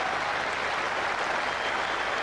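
A full-house cricket crowd at Trent Bridge gives a standing ovation for Alec Stewart's century, steady broad applause filling the ground without a break.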